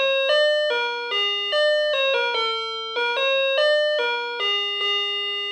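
An electric calling-bell doorbell plays a loud, clear electronic melody of repeated stepped tones in a steady rhythm, alone with no talk.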